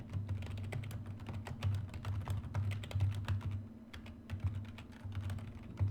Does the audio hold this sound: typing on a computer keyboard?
yes